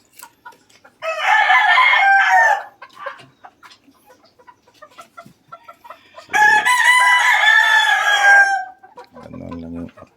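Two loud, close rooster crows ring out several seconds apart, each long and strained. Brief clucks and scratchy movement fill the gaps, and a short low cluck closes the sequence.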